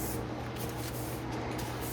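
Steady hiss of spray paint being applied over an epoxy countertop finish, a continuous broadband spray running evenly throughout at moderate distance with no voices.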